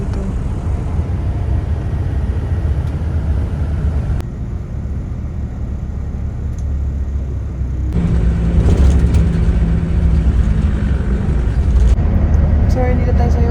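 Road traffic rumbles steadily around a city bus travelling toward Yorkdale Bus Terminal in Canada, with engine and road noise throughout and a louder, fuller stretch in the second half, while a voice talks over it.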